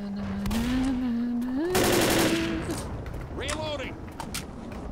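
Video game gunfire from Left 4 Dead rattles in rapid bursts beneath players talking, with a sustained tone and dense crackling shots midway.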